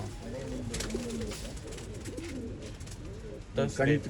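Pigeons coo in low repeated phrases through the first half, with a louder burst of bird calls near the end. The birds are old-line pigeons offered for sale in Bangalore, and someone talks faintly in the background.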